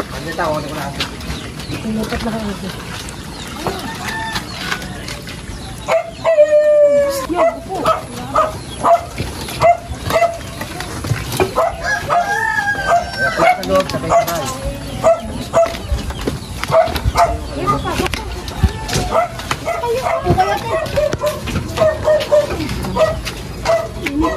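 A dog barks in short bursts amid a busy outdoor market scene, with people talking and birds chirping in the background.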